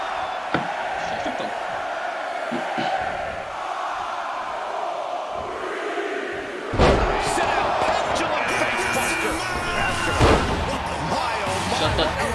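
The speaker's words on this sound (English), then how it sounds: "The sound of this crowd is deafening, and he's asking for more." A roaring crowd in the video game WWE 2K22 surges loudly in a large wrestling arena during a Royal Rumble match, swelling sharply midway with heavy thuds, under an excited announcer's voice.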